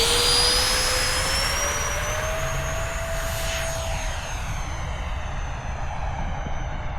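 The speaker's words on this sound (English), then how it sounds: "First jet flight in a while. We're gonna put it up." E-flite Habu SS electric ducted-fan RC jet taking off and flying past sundown in cold March air, a loud, high whining roar that sweeps in pitch and then fades slightly as it climbs away.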